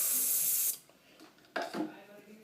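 A loud hissing water spray cleans a dental handpiece for under a second, stops, then two shorter sputtering bursts of spray follow after a quiet pause.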